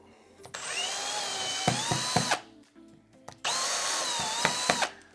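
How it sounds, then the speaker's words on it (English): A small-bit power drill bores into a metal wall stud behind drywall in two bursts of about two seconds each, loud and close, with a brief pause between them and no talking. "So we got a little drill bit. Let's test for the stud."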